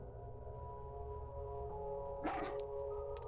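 A dog's short bark from the horror video game Haunting Ground, one brief yip over a steady low game ambience drone, with no talk.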